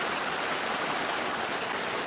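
Heavy midday rain falling in a steady, dense hiss, fairly soft and continuous with no voices over it.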